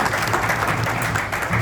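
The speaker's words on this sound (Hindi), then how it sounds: "Let's give them a huge round of applause." Sustained, dense applause from an audience at a BNI business networking meeting in Raipur, honouring the welding company Petra Weld; steady broadband clapping fills the whole stretch with no talk over it.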